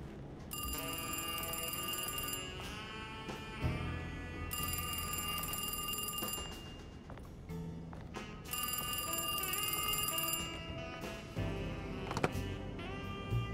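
A phone rings in the horror game Alone in the Dark, with loud, repeated bell-like electronic bursts spaced regularly over a low, droning background.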